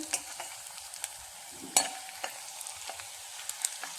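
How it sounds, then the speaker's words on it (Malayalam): Garlic sautéing in a pan, a soft steady sizzle under irregular light clicks and scrapes of a stirring utensil, close and quiet with no voices. "ഇനി നമുക്ക് ഇത് ഒന്ന് വഴറ്റിയെടുക്കാം നല്ല ബ്രൗൺ കളർ ആകണ്ട വെളുത്തുള്ളി"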